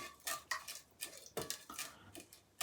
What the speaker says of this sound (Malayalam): ഇനി ആ സേമിയ നന്നായിട്ട് അതിലേക്കൊന്ന് മിക്സ് ചെയ്ത് കൊടുക്കാം